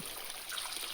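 Water from a tunnel falling steadily into a moss-covered tank, a continuous hissing trickle and stream, close and even in level with no voices.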